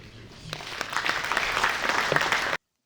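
Applause from an audience at a graduation ceremony, steady clapping that builds after half a second and holds fairly loud until it cuts off abruptly.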